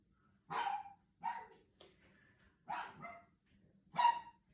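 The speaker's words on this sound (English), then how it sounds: "She likes to bark at anything and everything in the neighborhood." Shiloh, a pet dog, barks in four or five sharp, separate bursts spaced about a second apart, loud and close against a quiet indoor background.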